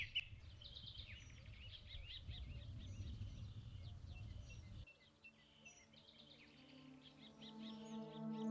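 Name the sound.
dawn chorus of birdsong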